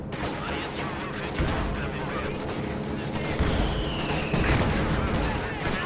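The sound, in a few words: 152mm artillery shells firing in the video game Company of Heroes 2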